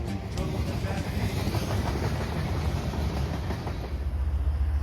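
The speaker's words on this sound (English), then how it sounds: "We kick off Volume 8 with NS-40N loaded grain train with two BNSF ES-44 DCs as they tiptoe into town." An NS loaded grain train led by two BNSF ES44DC diesel locomotives rolls slowly into town, giving a steady, fairly close rumble with soft rhythmic rail clatter and no voices.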